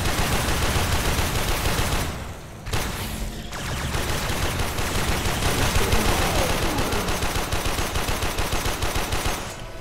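Rapid automatic gunfire from the Warframe video game, dense and loud, running almost continuously with two brief pauses, as sustained bursts of shots blur into a heavy chattering roar.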